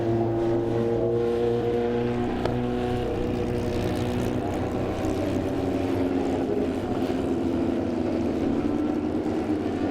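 Several race cars idling and rumbling steadily behind a safety car at a WA Sporting Car Club final-round race meeting in 2023, a continuous multi-engine drone with no one talking.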